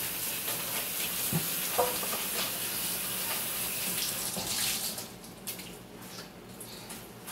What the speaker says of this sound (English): I keep going back and forth, washing the sud out of the rag.